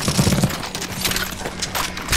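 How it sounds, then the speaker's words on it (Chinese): Rapid gunfire in CS:GO Zombie Escape on the ze_tibia map, a dense stream of overlapping shots from many players holding a position, steady and loud throughout with no clear gaps. "开枪，开枪，往上开枪。"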